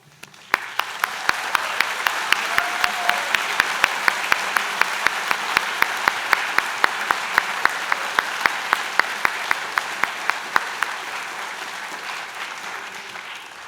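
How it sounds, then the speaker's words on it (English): Convocation audience at a skilled trades and apprenticeship school applauds standing faculty; dense, steady clapping with sharp individual claps starts almost at once, holds loud for about eleven seconds, then thins and tapers off. "I know this will bring a huge round of applause"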